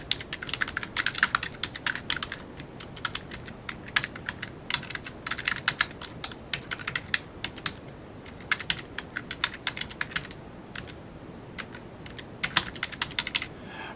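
Rapid typing on a computer keyboard, close and crisp, with bursts of keystrokes separated by short pauses across the whole stretch.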